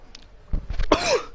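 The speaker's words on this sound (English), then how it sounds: "Sorry about that cough." A single cough from a man with a bad lingering cough, close to the microphone, with a short rough burst preceded by faint throat noises and followed by a small thump.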